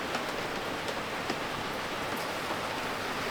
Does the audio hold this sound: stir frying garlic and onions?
no